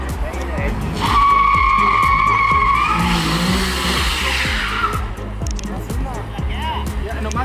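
Tires of a 2023 single cab Ford F150 with a Coyote engine squealing in a burnout, a steady loud screech over a rumbling engine that fades after a few seconds, with people talking nearby.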